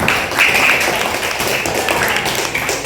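Classroom clapping for a student named Nisrina during an Islamic religious education lesson, a short burst of group applause of steady, moderately loud claps lasting a few seconds.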